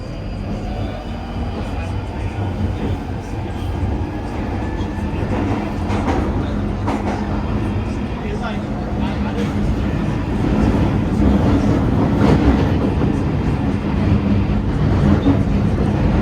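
A London Underground tube train pulls away, a loud, steady low rumble building gradually with rising motor whine and rattling from inside the carriage.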